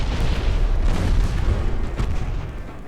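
A torpedo strikes a ship in a naval warfare game, a loud rumbling explosion with a heavy low boom that rolls on and slowly fades over a few seconds, with no talk.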